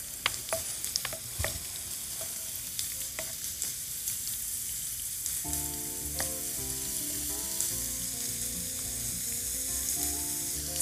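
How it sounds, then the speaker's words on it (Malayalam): Garlic and chopped ginger fry in a pan with a steady close sizzle and a few sharp clicks of stirring, and soft background music comes in partway through. "വെളുത്തുള്ളി നന്നായിട്ടൊന്ന് മുരിഞ്ഞ് കഴിയുമ്പോൾ അതിലേക്ക് കുറച്ച് ഇഞ്ചി അരിഞ്ഞത്."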